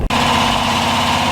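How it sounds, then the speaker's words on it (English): A VW Autovilla camper van engine idling high, a loud steady drone with an even low hum, heard alone after a brief dropout at the start. "right now the car's idling very high"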